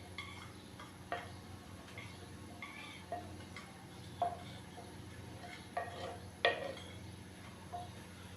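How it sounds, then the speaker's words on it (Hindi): Cauliflower is stirred in a handi for dhaba-style gobhi matar, producing a series of light metallic clinks and scrapes of a spoon against the pot, irregularly spaced over a low steady background. "गोभी डालने के बाद अच्छे से हम इसको मिक्स करेंगे।"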